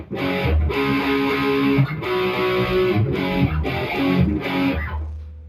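Distorted electric guitar plays a rhythm riff slowly, with loud, chugging chords repeated in a steady pattern and short gaps between phrases.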